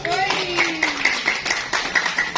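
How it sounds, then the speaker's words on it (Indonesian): Audience at a business seminar claps for a speaker being introduced, a steady patter of hand claps under a raised voice and a ringing musical tone. "tepuk tangan yang luar biasa untuk Mr. Jabar Ibrahim."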